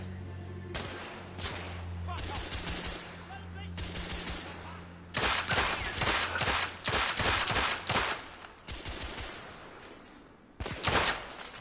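Video game gunfire from The Order: 1886, with repeated bursts and fusillades of shots, some rapid and machine-gun-like, separated by short pauses, loud and close.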